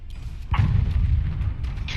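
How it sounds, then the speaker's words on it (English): In a mortar-themed video game, a vertical cannon fires a single deep boom that rumbles on as a low, sustained roar. "Vertical cannon ready to fire."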